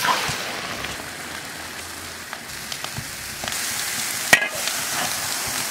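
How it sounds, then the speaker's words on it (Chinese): Tomatoes stir-fry in a pan with a steady hiss of sizzling juice, broken by occasional scrapes and taps of the spatula, close and moderately loud with no talk. "柿子炒出汁，舀出来。"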